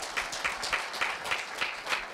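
A small audience at a middle-school speech festival applauds a student, with steady rhythmic clapping of modest loudness and no talking.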